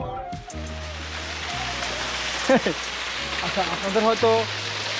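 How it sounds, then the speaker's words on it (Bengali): Water from a waterfall falls in a steady rushing hiss at night, continuous in the background while someone talks over it. "একটা ঝর্ণার আওয়াজ আপনারা শুনতে পাচ্ছেন"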